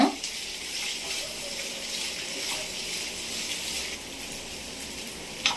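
Onions fry in a pan with garlic while cooking a spicy ivy gourd and chickpea-flour sukka, a steady moderate sizzling hiss throughout with faint clatter at the start and end.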